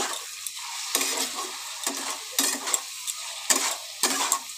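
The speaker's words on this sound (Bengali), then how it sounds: "এবার আমি মশলার সাথে আলু দিয়ে ভালো করে কষিয়ে নেব" Potatoes sautéed with spices in a pan for ghugni, a steady frying sizzle broken by repeated scraping strokes of a spoon stirring every second or so, close and moderately loud.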